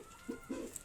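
Hens in a poultry shed give a couple of soft, low clucks close by, brief and quiet with no other sounds.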